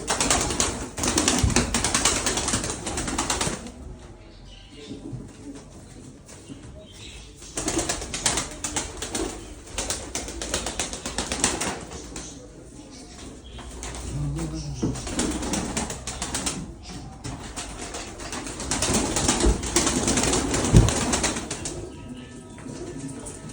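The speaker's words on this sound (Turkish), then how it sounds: "Bunlar hep uçan kuşlar dostlar." Pigeons in a loft flap their wings in bursts with soft cooing mixed in, close by in an enclosed space, with quieter gaps between the flurries.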